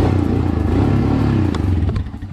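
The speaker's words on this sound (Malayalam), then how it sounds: "ഇതാണ് സ്റ്റോക്ക് ആയിട്ടുള്ള ബൈക്കിൻ്റെ സൗണ്ട് എന്ന് പറയുന്നത് കേട്ടോ." A Royal Enfield Himalayan motorcycle with its stock exhaust idles close by on its centre stand. It gives a steady, loud, thumping engine note, and a few clattering taps come in near the end.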